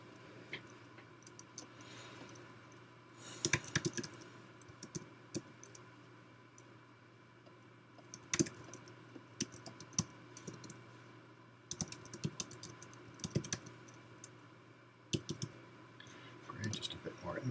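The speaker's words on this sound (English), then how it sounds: "We'll do some more typing." Intermittent bursts of computer keyboard typing while a simple chat bot conversation is entered, soft clustered key clicks separated by pauses, close and fairly quiet over a low steady hum.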